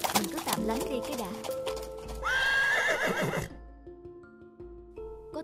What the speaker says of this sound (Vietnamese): Có một toán người rất đông đang cưỡi ngựa qua đây